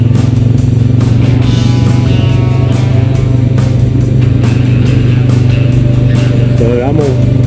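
Honda Rancher 420 ATV fitted with 25-inch Swamp Lite tires, its engine droning steadily and loudly throughout while riding, with a constant low rumble and wind noise.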